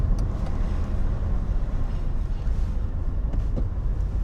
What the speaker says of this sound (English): School traffic is absolutely abysmal.